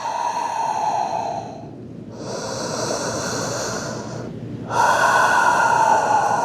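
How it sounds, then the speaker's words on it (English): Slow, deep breaths in child's pose during yoga: a long audible exhale, a pause, then a strong inhale, close and airy with no talk. "Nice deep breaths."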